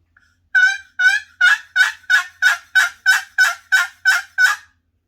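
A box call imitating a turkey hen: a steady series of about eleven loud, raspy yelps in an even rhythm, close and alone.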